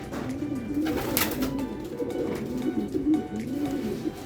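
A hen racing pigeon gives repeated soft, low cooing calls, close by, over a steady background hum.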